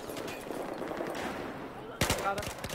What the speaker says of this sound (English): I hear the gunfire